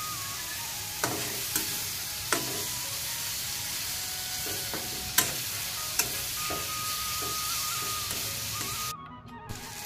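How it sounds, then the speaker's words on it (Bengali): Chopped onions fry in oil with a steady close sizzle, broken by several sharp clicks and taps of a spatula stirring against the pan. "এই ধরনের পেঁয়াজগুলো ভাজা হয়ে গেছে"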